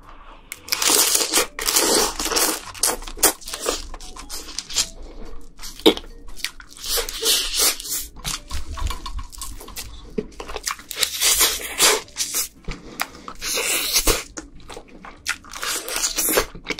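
Raw crab shell and meat being bitten and crunched, close-up ASMR eating, with repeated sharp cracks and crunches in an irregular rhythm, loud and close, with no talking.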